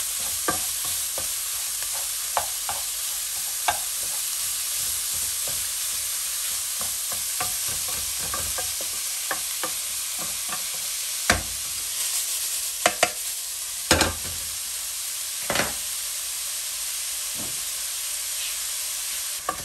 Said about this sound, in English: fry everything together